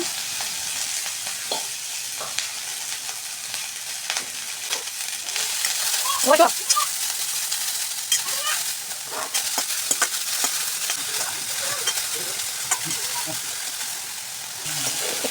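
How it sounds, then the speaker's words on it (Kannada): Chopped ingredients fry in oil in a pan, giving a steady soft sizzle broken by frequent scraping and clattering stirring strokes, with one louder burst partway through. "ಅದಕ್ಕೆ ಸ್ವಲ್ಪ ಎಣ್ಣೆನ ಹಾಕೊಂಡ್ಬಿಟ್ಟು ಹುರ್ಕೊಳ್ಳೋಣ"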